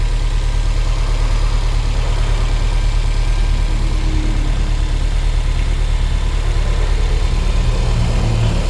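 A stock 2012 Subaru Impreza WRX STI sits idling before a service visit, its engine giving a steady, even low rumble that stays constant and fairly loud throughout, with no voices.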